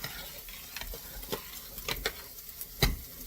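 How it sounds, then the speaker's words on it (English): Spoon stirring pasta in a pot of boiling water, a few scattered scraping clinks against the pot over a soft steady bubbling hiss, close and moderately quiet. "I'm stirring the pasta so it doesn't stick"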